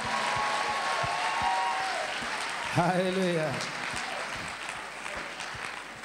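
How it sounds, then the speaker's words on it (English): Church congregation clapping in praise, a continuous wash of applause with a voice briefly calling out over it partway through. "Let's clap for the glory of God."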